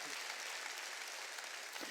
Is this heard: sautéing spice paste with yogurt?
no